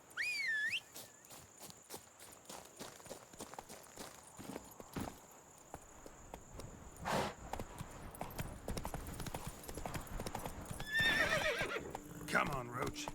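Roach, a horse in the game Witcher 3, neighs and trots with steady clip-clop hoofbeats over game music and ambience, with someone talking over it.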